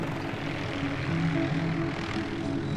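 Rotor and engine drone of a helicopter in flight, steady and moderately loud with a throbbing low hum, no talking.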